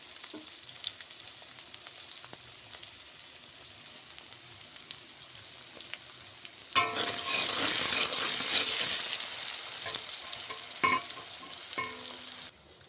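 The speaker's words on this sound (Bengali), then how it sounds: "আলু ভাজার সময় স্বাদ মতো নুন দিয়ে দিতে হবে" Potato pieces frying with salt in hot oil for a Bengali home meal: a low quiet stretch, then a loud, steady sizzle that jumps up midway and holds, with a few sharp stirring scrapes near the end.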